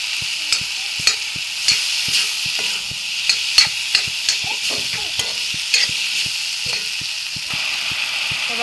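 Boiled potatoes tossed with chili powder in a hot pan: a low steady sizzle under regular, crisp clacks and scrapes of a spoon stirring, close and fairly loud.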